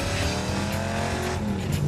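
A loud, rumbling hot rod engine revs with a throaty, harmonic growl, close and continuous for a couple of seconds.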